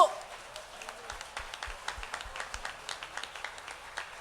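A church congregation at a Bible study in Binangonan, Rizal claps softly and sparsely. Scattered, uneven hand claps sit low in the mix with a faint background.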